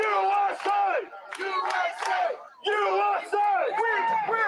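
A crowd chants and cheers in loud rhythmic bursts of massed voices, rising and falling with short pauses between phrases.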